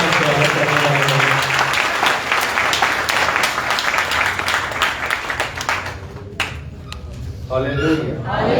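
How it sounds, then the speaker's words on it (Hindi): Loud, sustained applause fills a Sunday church prayer service to welcome the preacher. It is dense and close and tapers off near the end while a voice speaks over it. "आए हम जोरदार तालियों से खुदा के कलाम का और खुदा के बंदा का स्वागत करने वाले हैं"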